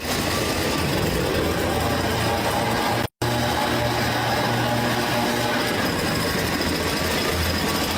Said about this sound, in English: Or leaf blower.